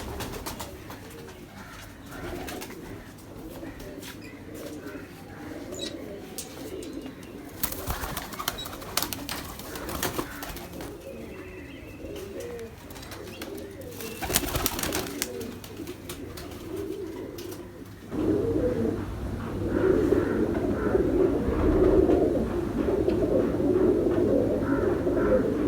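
Firozpuri pigeons give repeated soft, throaty cooing calls, several birds overlapping near and far in a loose, continuous rhythm, with brief rustling bursts and a fuller chorus of coos toward the end, and no talk.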